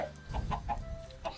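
A Minecraft chicken gives a quick run of short clucks, close and fairly quiet, with no talking over them.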